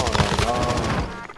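Rapid gunfire in the shooter game Warzone rattles steadily and loudly for about a second, with a voice talking over it.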